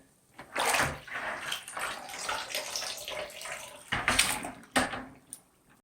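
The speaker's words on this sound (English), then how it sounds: "That's why you wash before you paint." Water splashing and running against a dirty interior wall as it is washed down before painting. The splashes come in uneven close bursts, with a strong surge near the start and two more toward the end, and no talk.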